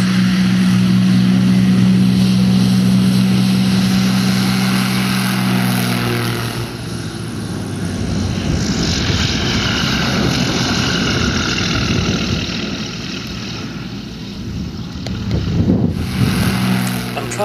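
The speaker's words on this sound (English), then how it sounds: "I'm climbing out now, and I'll be positioning the aircraft on final" A light propeller aircraft in flight near a runway, its engine droning steadily and loudly throughout, the tone shifting slightly partway as power changes.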